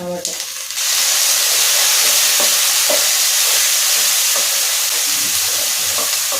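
Onions and chillies fry in a pan for a moringa dal. After a brief quieter start, a loud, continuous sizzle takes over, broken by occasional soft stirring knocks.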